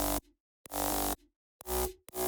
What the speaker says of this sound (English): On top of that, we have a really gritty mid bass.